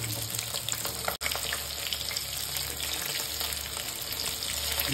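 A whole river rohu, about three kilos, fries on its second side in hot oil, giving a steady, dense sizzle that runs unbroken apart from one brief dropout near the start, with no voices.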